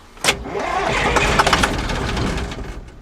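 An abandoned combine's engine cranks on ether and catches into a loud, rough, close roar that holds for a few seconds with uneven surges, running alone without talk.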